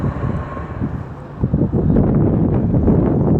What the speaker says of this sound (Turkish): biraz rüzgar çoğalmış